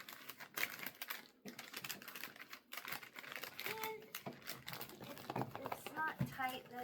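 Gift wrapping paper is pressed down and folded around a box, making close crinkling, papery rustles and soft taps throughout. A person talks quietly over the paper sounds.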